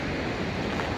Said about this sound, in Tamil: உங்களுக்கு பின்னாடி இருக்கிறது தான் பரச்சுக்கி வாட்டர் ஃபால்ஸ்.